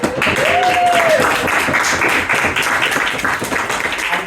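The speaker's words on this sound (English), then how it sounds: "So please stomp your feet, clap your hands, and welcome to the stage" A stand-up comedy audience applauds continuously, with a brief whistle early on and voices mixed into the steady clapping.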